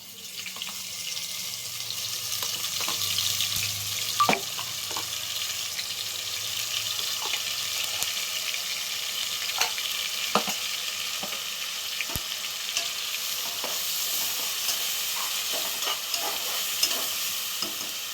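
Browned onions frying with freshly added ginger-garlic paste, coconut and garlic in a pan give a continuous close sizzle broken by frequent spoon clinks and scrapes.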